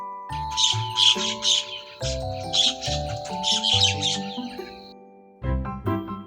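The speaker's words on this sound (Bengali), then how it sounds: "শালিক পাখি শালিক পাখিকে ইংরেজিতে বলে মাইনা" A myna calls in a run of chattering, whistled and squawking notes, several bursts in quick succession with a short pause before a final burst, close and clear with no talk.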